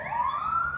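A wailing siren rises steadily in pitch, fairly loud and continuous, with no one speaking.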